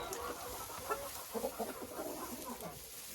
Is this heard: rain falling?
no